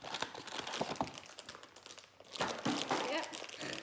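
Someone tears open a brownie mix packet, making a close, crinkly ripping and rustling of plastic and paper that intensifies midway through the clip.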